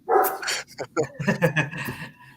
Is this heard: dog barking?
yes